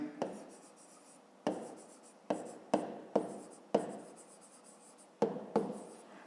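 Pen or chalk writing by hand during a fifth-grade math exercise, a series of close, crisp tapping strokes and scratches in irregular bursts, with no voice.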